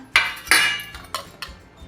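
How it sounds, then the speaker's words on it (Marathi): Chopped vegetables for a Palghar-style ukadhandi are tossed together in a vessel, a few sharp metallic clinks and scrapes of a utensil against the pot, close and loud, with no talk. "आता घेतलेल्या सगळ्या भाज्या आहेत त्या सगळ्या मिक्स करायच्या"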